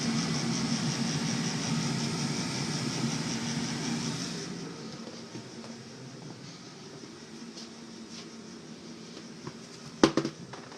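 A gas furnace burner fires up on a no-heat service call, giving a steady broadband roar for several seconds that then drops to a quieter low hum, with a couple of sharp clicks near the end.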